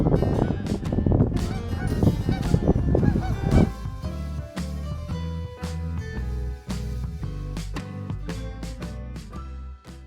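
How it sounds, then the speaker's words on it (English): A flock of geese honks by the water, dense and loud at first, then thinning into scattered, repeated calls at a moderate distance. "See the geese over there, hear the geese over there."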